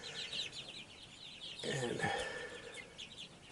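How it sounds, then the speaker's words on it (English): Buckeye, Welsummer and golden laced Wyandotte pullets, about six weeks old, cluck and chatter steadily in a coop, close by and moderately loud, with a brief spoken word mixed in. "I got Buckeyes and I got Wellsummers and I got golden lace Wyandottes in here"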